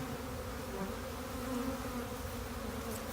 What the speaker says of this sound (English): this hive is just busting out. Like 3 stories deep right now.